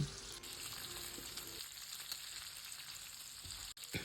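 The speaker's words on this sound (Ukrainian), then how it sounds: "Далі я наливаю соняшникову олію та смажу трішки до золотистого кольору" Chicken gizzards fry in hot sunflower oil with a steady crackling sizzle, close up, interrupted briefly by a couple of soft clatters.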